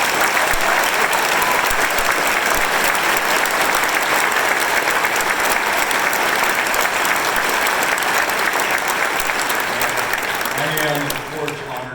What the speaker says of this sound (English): So a round of applause for all the veterans.